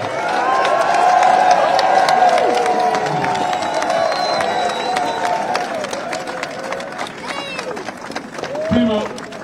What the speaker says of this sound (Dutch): krijgen ze nu een heel hartelijk applaus van al die aanwezigen die hier vandaag aanwezig zijn